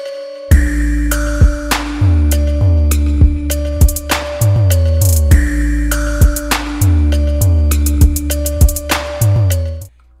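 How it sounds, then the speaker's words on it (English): Intro music of the Roblox driving and roleplay game Southwest Florida plays loud and clear as a looping synth track with steady bass pulses, a held tone and bright percussive hits, with no talking. "I hear some intro music right now"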